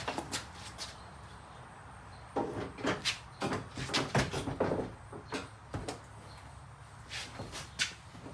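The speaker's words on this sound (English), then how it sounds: "Okay, door's latched." Someone fits and latches a removable door on a Ranger UTV, making a string of sharp metallic clunks, knocks and rattles at close range in irregular bursts, with a few firm thumps as it seats.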